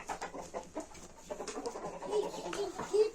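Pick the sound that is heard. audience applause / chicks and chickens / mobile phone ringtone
chicks and chickens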